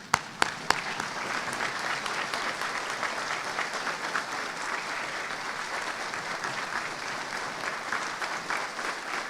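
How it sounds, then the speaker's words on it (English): Applause for veterans at a Veterans Day ceremony: a room of students, faculty and staff clapping steadily and evenly after a few sharp opening claps, sustained throughout. "I ask all of our students, faculty, and staff to stand and join me in applause as we show our gratitude for our veterans"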